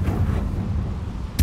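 A Confringo spell blast goes off in Hogwarts Legacy as a deep, booming burst that rumbles low and decays, followed at the end by a sharp crack.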